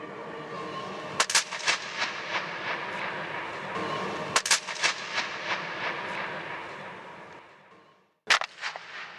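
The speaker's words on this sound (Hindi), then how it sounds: "जो पेपर को फाड़ूंगा उसकी भी आवाज आएगी" Paper being torn inside the Gol Gumbaz whispering gallery gives sharp ripping bursts that ring out with a long, booming echo, repeated several times with reverberant wash between them.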